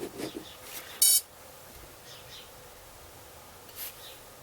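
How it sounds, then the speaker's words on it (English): Two quick high-pitched electronic beeps from the ESCs on a K450 quadcopter control board during calibration, a brief tight pair close by in an otherwise quiet room. "you heard the two beeps"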